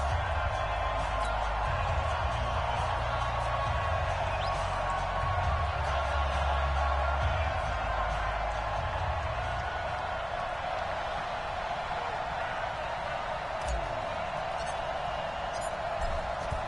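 A stadium crowd roars steadily in a PS4 football game as the Tennessee Titans and Arizona Cardinals line up, with constant dense crowd noise and low rumbling swells throughout.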